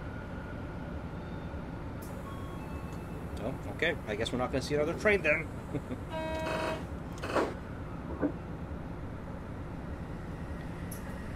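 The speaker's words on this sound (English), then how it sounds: "I hear a train. Where's that coming from?" A train passes in the BVE5 simulator on the Odakyu Odawara Line, a low rumble with clattering wheel-on-rail bursts and a brief horn-like tone in the middle of the clip. Someone talks over it near the start.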